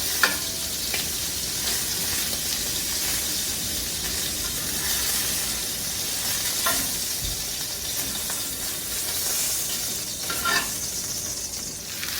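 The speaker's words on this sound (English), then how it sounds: "Now that our sausage is all nice and brown, we're going to add it to our gravy here." Browned sausage goes into a pot of simmering Sunday gravy and is stirred, giving a steady, moderately loud bubbling sizzle with soft scraping and occasional brief clinks, with no talking.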